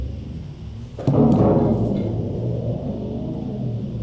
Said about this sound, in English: Now I'm controlling this strange reverberator.